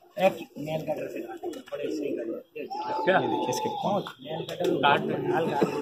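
A high flyer pigeon, an eighteen-year-old bird, coos in low repeated rolling phrases close by, with people talking throughout.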